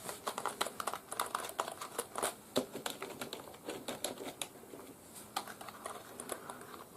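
Steady, fast typing on a Logitech K275 wireless keyboard, close and fairly quiet, with rapid clustered key clicks throughout and no talking.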